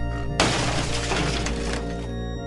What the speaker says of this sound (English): It crashed through the window and fell to the ground below.